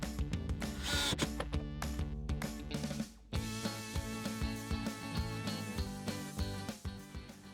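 A power drill drives screws to fasten hasps onto the lid of a wooden goat disbudding box. The motor whirs in repeated bursts that are close and fairly loud, with a short pause near the middle.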